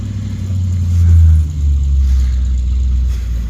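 A new truck's engine idles with a steady low rumble, swelling briefly as if revved, then settling back into a constant drone; close and fairly loud with no talking over it.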